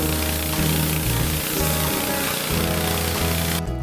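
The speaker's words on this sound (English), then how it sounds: "I'm going to pressure wash the whole thing just to save the life of my chain on my chainsaw" An engine-driven pressure washer blasts dirt and rocks off a curly arbutus stump before slabbing. It makes a loud, close, steady motor drone with rough pulsing, then cuts off abruptly at the end.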